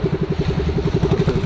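Boat engine running in big waves, a loud near chugging with a fast steady pulsing beat throughout and no voices.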